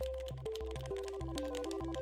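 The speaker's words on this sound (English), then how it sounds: "I'm judging the sound of her keyboard." Quick, light clicks of typing on a computer keyboard in the video game Find Love or Die Trying, tapping away steadily beneath stepping background music.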